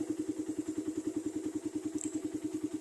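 A motorcycle engine idles steadily at low RPM, a quiet, even, rapid thumping pulse with a slight clatter, heard close and alone throughout.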